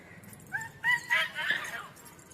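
A dog giving short high yips and whimpering barks outdoors, a few brief calls at moderate distance, with people talking nearby.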